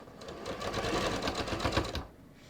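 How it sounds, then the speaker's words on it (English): A sewing machine stitches a knit neckline strip at a 5/8-inch seam allowance, a fast steady close-up whirring and needle clatter for about two seconds before stopping. "now I'm just going to start stitching, and I'm just using 5/8 of an inch"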